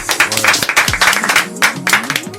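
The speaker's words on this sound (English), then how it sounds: "Can we clap it up one time" Short burst of audience clapping at a casual Sunday hip-hop show, with uneven claps over a backdrop of music and voices.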